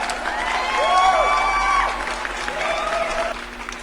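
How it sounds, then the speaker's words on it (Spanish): Audience applause during a lecture, with a crowd clapping steadily while cheers and whoops rise over it, swelling in the middle and then easing. "Un aplauso por favor a Pepe."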